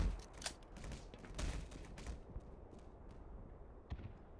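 Gunshots in Black Mesa crack out as scattered sharp reports, a cluster of rapid shots early on thinning to sporadic, quieter pops later, fairly faint overall.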